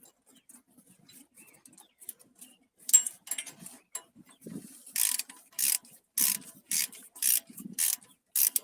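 A ratchet wrench torques down brake parts on a Lincoln MKS, a run of quick, crisp clicking strokes close by, getting louder and more regular toward the end, with faint clunks in between.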